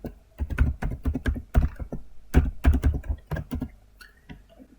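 Fingers typing a domain name on a computer keyboard during Windows Server 2025 setup: rapid clusters of crisp, close keystrokes in irregular bursts with short pauses between them.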